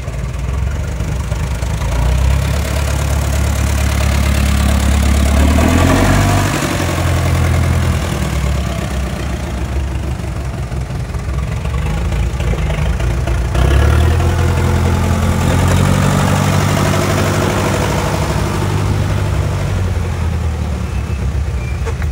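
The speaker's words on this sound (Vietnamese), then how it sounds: "Con này có 69 mã lực loại 2 cầu, tay lái trợ lực, số cơ bên cơ, động cơ có 4 máy luôn" A Kubota M6970 tractor with a 69-horsepower four-cylinder engine and four-wheel drive idles close by, a loud, steady rumble with a slight uneven knock throughout.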